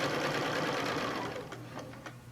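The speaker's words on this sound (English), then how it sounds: "I'm going to sew down until my presser foot touches, just kisses that line." A domestic sewing machine stitches in a steady, rapid hum with a fine mechanical rattle during quilting ruler work, then slows and stops with a few light clicks, close and moderately quiet.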